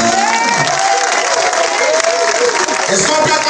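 A worship crowd cheering and applauding for Jesus, sustained loud clapping and voices merging into a continuous roar, with people talking and shouting through it.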